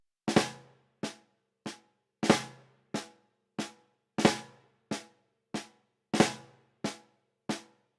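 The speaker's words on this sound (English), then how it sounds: "Do not confuse this with the Swiss Army Triplet. It's a different sticking and it sounds like this." Swiss Army triplet rudiment on a drum, with flammed accents opening each group of three; sharp, close strokes with short ringing decays repeat in an even, steady pattern with no other sound.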